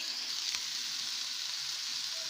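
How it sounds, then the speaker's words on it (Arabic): Chopped onion sizzles in oil in a pan while being stirred for a homemade family-size pizza sauce, a steady close hiss with faint scraping of the spoon. "هنا كنحرك البصله باش ما تشد."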